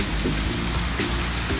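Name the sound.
rain during a storm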